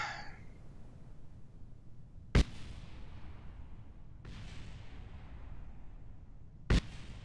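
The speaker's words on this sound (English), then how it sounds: "What are those explosions that I hear?" Explosions in the Kerbal Space Program video game: three sharp, loud bangs spaced a couple of seconds apart, each trailing into a decaying rumble over a low background hum.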